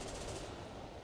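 Aircraft machine guns fire in the War Thunder combat flight game, a dense, continuous rapid burst lasting about a second, loud and broadband, with no voice over it.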